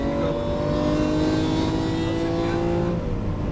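A Lamborghini Aventador on a racetrack roars loud and close from inside the car, the engine note climbing steadily in pitch under acceleration and then easing at the end.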